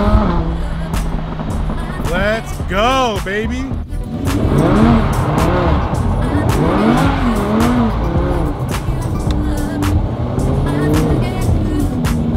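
A rear-wheel-drive Lamborghini Huracan with its exhaust removed revs hard, loud, raw engine wails rising and falling in repeated sweeps, with some tire noise, while someone speaks over it.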